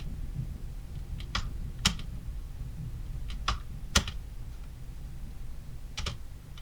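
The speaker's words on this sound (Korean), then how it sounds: "홈키 누르고 스페이스바." A few separate key presses on a computer keyboard, including the Home key and spacebar, as sharp close clicks spaced over several seconds against a low steady room hum, with no talk.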